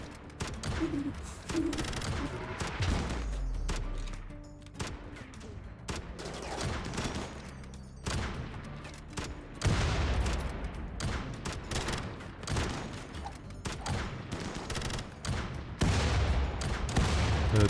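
Rapid bursts of gunfire and machine-gun fusillades as robots attack people in a RimWorld battle, dense overlapping cracks and booms continuing throughout, loud and close.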